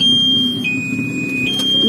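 A continuous high-pitched electronic alarm tone from a 2023 Saige Olympus e-bike sounds close by, shifting slightly in pitch, over a low mechanical hum.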